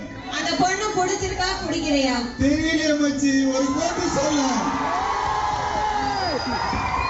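Fans in a theater crowd cheer and whoop loudly, with raised voices and shouts rising and falling throughout; distinct whistles are hard to pick out in the continuous roar.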